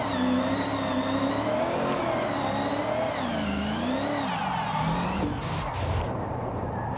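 Mitsubishi Lancer Evo IX engine in Forza Horizon 6, droning steadily in third gear at low speed with wavering pitch, then bogging and sagging near the end, loud and continuous with no talk over it.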